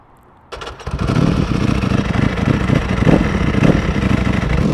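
A motorcycle engine catches after a brief quiet start, then runs loud and close with a steady, slightly uneven throb for the rest of the clip.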